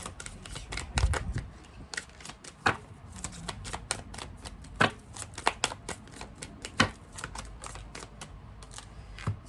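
Tarot or oracle cards are shuffled for a reading, giving a steady run of soft papery flicks and snaps with a few sharper slaps, close by and alone.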